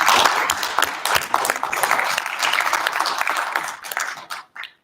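An audience at a regional workshop gives a round of applause, loud close clapping that swells, holds briefly and then tapers off into a few scattered claps at the end.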